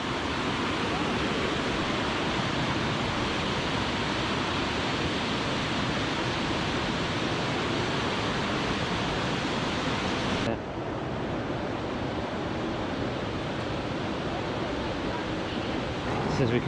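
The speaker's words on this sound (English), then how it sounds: "quite a powerful river." A powerful rainforest river in Colombia rushes in a steady, dense roar, loud and continuous throughout with a slight drop in brightness partway through.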